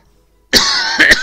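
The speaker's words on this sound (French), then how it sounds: "Pardon, je tousse." Sudden loud, close cough after silence, a rough raspy burst ending in two quick hacking pulses.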